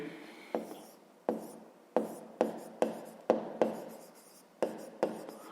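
Handwriting during a fifth-grade math exercise: a pen scratching across paper in a steady run of short strokes, each starting with a sharp tap, close and fairly quiet, with no talking.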